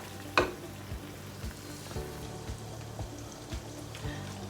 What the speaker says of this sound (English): I'm just going to stir this and let it fry for about 2 minutes or so